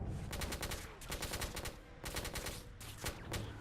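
Bursts of rapid machine gun fire in the video game The Order: 1886, loud and close, coming in several long volleys separated by brief pauses.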